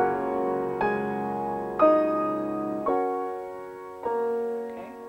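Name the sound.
piano playing Clair de lune measure 23, both hands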